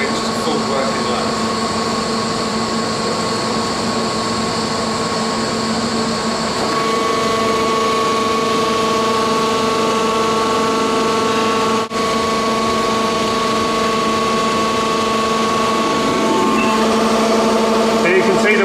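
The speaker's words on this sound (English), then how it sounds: "We're going to test the winch to full working load." A Lewmar captive winch hauls at full working load, a steady loud mechanical whine and hum with tonal layers that shift partway through, continuous and close.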